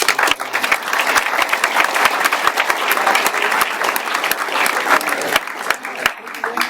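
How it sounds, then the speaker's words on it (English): An audience applauds at an entrepreneurial career talk, dense steady clapping filling the whole stretch, loud and close, with a little crowd noise mixed in. "Let's give a round of applause."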